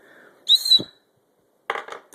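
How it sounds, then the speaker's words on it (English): A short, loud, shrill blast from the whistle built into a Bear Grylls survival knife sheath, blown indoors, followed a moment later by a few clicking handling sounds. "Yeah, the whistle's actually pretty loud. I'll blow it for you."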